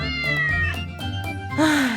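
A mother cat meows repeatedly, calling for a lost kitten, close and loud, a few drawn-out calls ending in a higher, louder cry.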